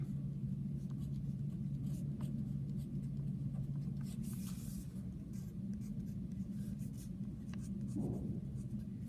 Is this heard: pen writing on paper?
yes